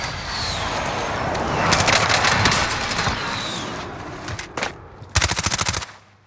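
Automatic gunfire in a Call of Duty: Modern Warfare Verdansk resurgence match: a steady, loud stream of shots that breaks into sharp, rapid machine-gun bursts near the end.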